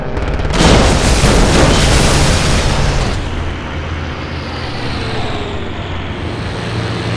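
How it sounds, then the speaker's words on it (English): A flight combat video game aircraft fires a machine-gun burst into a Bf 109, heard as a dense, loud roaring blast lasting about three seconds that gives way to steady engine drone. "160 rounds per second burst through the 109's airframe and cockpit before it can even come to rest"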